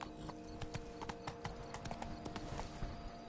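Roach's hooves clip-clop in a quick, even rhythm as the horse moves along in The Witcher 3. The sound is faint and steady, with low game ambience and no voices.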